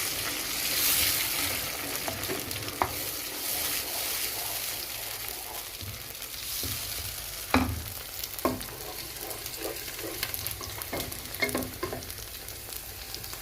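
A fish stew base of blended tomatoes and capsicum simmers and sizzles in a pan, with a steady soft bubbling broken by a few sharper stirring knocks, fairly quiet and with no talk.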